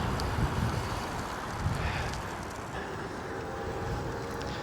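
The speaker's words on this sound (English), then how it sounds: "Oh, that headwind is holding me back" Steady headwind buffets the microphone while riding a Velotric Tempo ebike outdoors, a continuous low rumbling gust noise with occasional stronger bumps and no talking.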